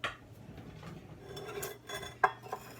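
Whole wheat flour scooped and scraped from a container with a measuring cup, giving soft scuffs and light scrapes and a few small clinks against the rim, close and fairly quiet with no talking.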